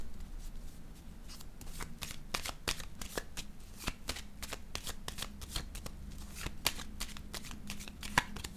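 Tarot cards are shuffled and laid down in quick, crisp riffling snaps and flicks that repeat steadily at close range and without talk.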